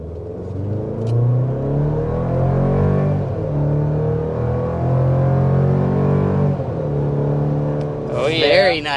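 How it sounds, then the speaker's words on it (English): A 2023 GMC Canyon Denali pickup accelerates at full throttle up a steep hill, its engine note rising through gears in a loud, close drone inside the cab, with people talking over it. "we're definitely excited to show you what it's like full throttle and get you that full acceleration"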